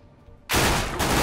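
Sudden burst of Counter-Strike: Global Offensive gunfire erupts after a quiet stretch, loud and dense like rapid automatic shots, continuing steadily to the end.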